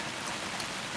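Rain patters steadily on a car-camping tent attached to a Tesla at a campground, a dense, even hiss of drops close overhead.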